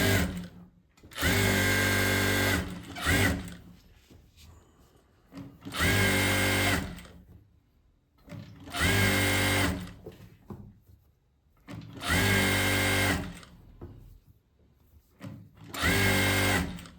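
A sewing machine stitches fabric during a class in five loud, even bursts of about two seconds each, with quiet handling gaps between them.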